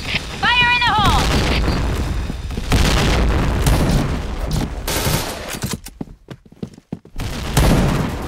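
A grenade blast and bursts of gunfire in a mobile shooter match using a T77 rifle, loud and dense with a booming thud, mixed with voices and a short pause before shooting resumes.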